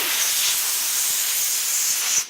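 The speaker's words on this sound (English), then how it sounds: "So just grab our air. We blow all this stuff off." Compressed air hisses in a steady loud blast, blowing cleaning debris off freshly cleaned engine parts during an engine teardown, close and continuous before cutting off at the end.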